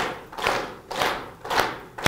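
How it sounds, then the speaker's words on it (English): Lecture audience clapping together in unison, four loud synchronized claps spaced roughly half a second apart, filling a hall, with no talk over them. "keep it to the same volume, the same strength of clap"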